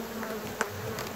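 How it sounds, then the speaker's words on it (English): Honey bees buzz around the head during a removal from a 120-year-old house in St. Martinville, Louisiana, a steady close hum with one brief louder pass as a bee flies right by. "The bees flying by my head are making a little breeze around my face."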